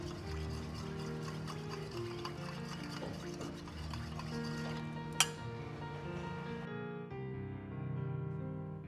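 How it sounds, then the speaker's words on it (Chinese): Sauce mixture of sugar, cooking wine, dark soy sauce, water and starch slurry being stirred in a bowl, a steady scraping swirl close up with faint kitchen background and one sharp clink near the middle. "搅拌均匀即成料汁"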